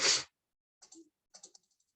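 Computer keyboard typing in IntelliJ IDEA: one loud burst, then two short clusters of light, quick key clicks separated by silence.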